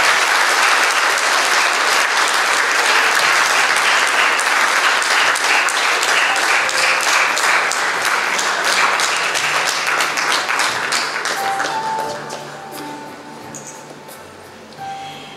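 A full hall applauds at a student concert in the Preiļi Culture House in Latvia, a loud, sustained wash of clapping that fades away in the last few seconds.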